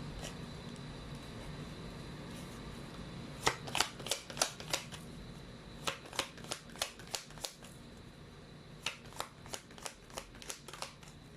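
Tarot cards shuffled for a reading, a run of quick crisp riffling bursts in three clusters, fairly close and clear over a faint steady background hum, with no talking.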